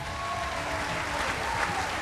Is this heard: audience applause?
yes